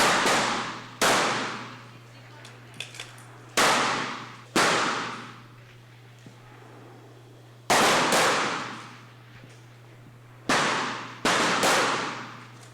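Gunshots ring out at a precision shooting competition, about seven loud, sharp cracks at irregular intervals, each trailing off in a short reverberant decay over a steady low hum.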